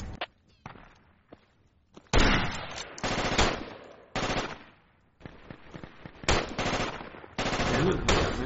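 Automatic gunfire in the Project Reality military shooter, with bursts of machine-gun and rifle shots around insurgents in a target building, some loud and close, others sparser and quieter, packed into dense stretches with short pauses between them.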